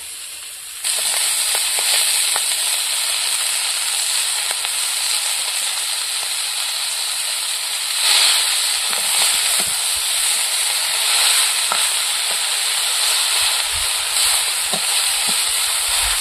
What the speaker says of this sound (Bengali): ভাজা হয়ে গেছে, এবার শাক দিয়ে দেবো।